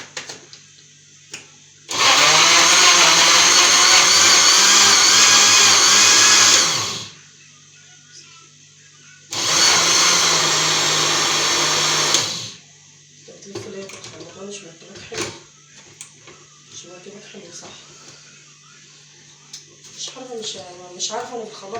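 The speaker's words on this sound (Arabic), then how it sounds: "مش عارفه انا في الخلاط ده ما بعرفش فيه قوي زي بتاعي" A blender whirs loudly blending bananas in two bursts, one about five seconds and one about three, then stops; a person talks in the quieter stretch afterward.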